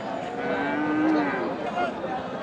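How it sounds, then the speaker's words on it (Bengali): A Friesian crossbreed bull calf at a cattle market gives a drawn-out low moo in the middle, with faint market chatter and other livestock around it. "এখানে দেখছি আর একটি ফ্রিজিয়ান জাতের বাছুর।"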